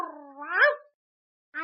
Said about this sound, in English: Rinkless, the king of the squirrels, may I present to Your Majesty my old friend, the cat.